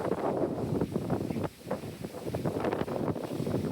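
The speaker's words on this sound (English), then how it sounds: "It's windy today." Steady, blustery wind buffets the microphone throughout, a loud rumbling roar with gusts that briefly ease before picking up again, on Lord Howe Island, Australia, at a scenic viewpoint facing Mount Lidgbird.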